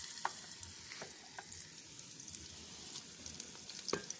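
Onions fry in a pan with garlic ginger paste and salt while being stirred, giving a soft continuous sizzle with occasional light scrapes, fairly quiet and without voices.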